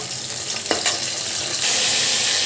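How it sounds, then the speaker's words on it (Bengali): Whole garlic cloves hit hot oil in a wok already holding a tempering of bay leaf and dried chili, producing a close, steady sizzling hiss that swells louder partway through, with no voices. "আমার ফোড়নটা ভাজা হয়ে গিয়েছে, আমি কিছু গোটা রসুন দিয়ে দিচ্ছি।"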